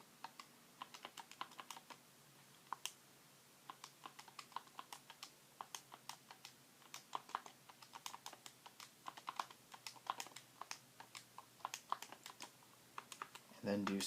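Keys pressed on a graphing calculator while entering data, a quiet, steady run of small plastic clicks spread across the whole stretch, with a louder bump at the very end.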